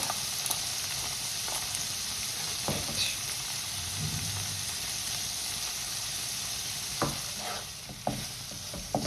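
Paneer frying in a pan with black pepper and peri peri masala, a steady hiss of sizzling oil with a few soft stirring knocks, close and fairly quiet, no talking.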